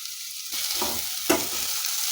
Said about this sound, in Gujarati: છેલ્લા આપણે થોડા લીલા ધાણા ઉમેરીએ અને મિક્સ કરી લઈએ